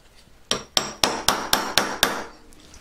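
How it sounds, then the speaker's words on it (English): A hammer strikes metal with its side while shaping a four-claw moissanite earring: seven sharp, evenly spaced taps ring out close by, each decaying quickly, with no talking. "So I actually do a lot of work on the side of my hammer."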